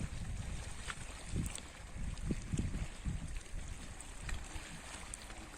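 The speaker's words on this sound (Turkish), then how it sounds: "Dalga sesleri kulağıma geliyor." Wind blowing outdoors in the shade of a pine grove near the sea, with low rumbling gusts and faint wave wash underneath, steady and fairly soft with no voices.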